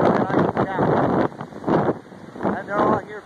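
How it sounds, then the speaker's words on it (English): Strong wind blows on Kailua Beach on a windy day, buffeting the microphone in loud, roaring gusts that surge and drop several times. "on a windy day, Kailua Beach"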